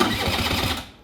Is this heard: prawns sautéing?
no